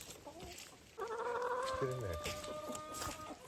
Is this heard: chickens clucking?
yes